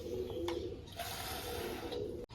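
Pigeons cooing in a low, throaty murmur, fairly close, with faint chirps above and a steady background hum.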